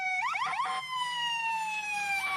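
Toy police car and fire truck sirens wail close and loud, opening with rapid rising and falling yelps and settling into a steady, slowly falling electronic tone, with no talking.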